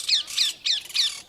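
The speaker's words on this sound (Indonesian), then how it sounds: "Raja Parkit pun bernyanyi dengan sangat merdu." A parakeet in a children's story sings four bright, squawky chirps in quick succession, close and clear with nothing else in the background.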